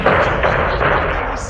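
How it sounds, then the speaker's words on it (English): Rockets fired in the game Modern Warfare 2 during a close air support mission in Mexico, a loud run of heavy thumping blasts in quick succession, a voice heard alongside. "I shot like 9 rockets at that shit"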